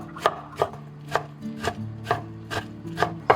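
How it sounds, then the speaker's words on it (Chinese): A kitchen knife shredding soaked pickled mustard greens on a cutting board, seven or eight evenly spaced sharp chops, close and crisp, with quiet gaps between strokes. "然后再给它切丝"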